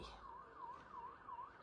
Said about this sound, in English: I don't know if you can hear the sirens and things going off in the background.